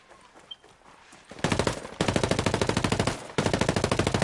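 Automatic gunfire in Ghost Recon Breakpoint, a quiet lead-in followed by rapid bursts of close, loud machine-gun shots in a steady rattling rhythm, with a short gap between bursts.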